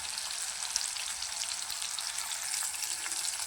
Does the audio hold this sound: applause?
no